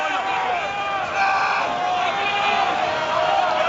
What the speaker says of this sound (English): The crowd here absolutely baying for more from their team now.